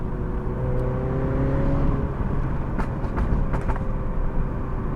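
A modified Mini JCW Clubman's engine runs loudly up close, a steady deep mechanical drone with a rising whine under it and a few sharp pops near the end, with no voices.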